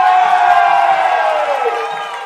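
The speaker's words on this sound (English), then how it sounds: "And it's really got the crowd going here as well." A loud, sustained roar and cheering from a football crowd at Athlone Town Stadium after an equalising goal against Finn Harps, swelling close and then slowly fading, with no clear talk over it.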